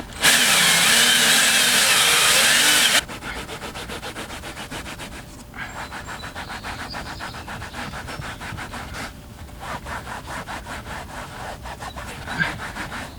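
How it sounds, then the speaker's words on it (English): A drill brush spins and scrubs a filthy carpet during extraction cleaning, opening with a loud, high whine for about three seconds and then settling into a steady, rhythmic scrubbing rasp. "Drill brush time."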